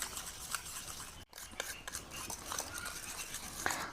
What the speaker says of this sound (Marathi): हे अशा चांगल्या प्रकारे मिक्स करून घ्यायचं तेल टाकल्याच्या नंतर